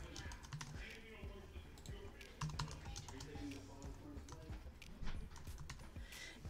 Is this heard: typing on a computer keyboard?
yes